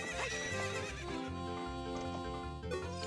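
In The Legend of Zelda: Ocarina of Time, a horse whinnies loudly over game music with a repeating low bass pattern, the neigh rising and falling clearly near the start.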